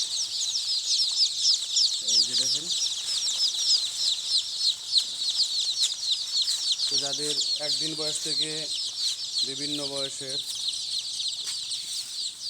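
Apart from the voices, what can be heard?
chicks clucking and chirping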